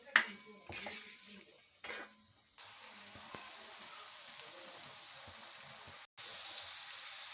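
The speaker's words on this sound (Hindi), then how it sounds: "इनको हम इसमें फ्राई करेंगे, प्याज को ऑयल में।" Steady sizzling of onions frying in hot oil for chicken karahi, a continuous crackling hiss with a few clinks and stirring noises near the start.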